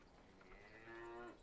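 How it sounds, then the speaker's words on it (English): Cattle in a cosy farming video game moo once, a single drawn-out low call that rises and fades, heard faintly and alone without talk. "I love that the cows actually make sound."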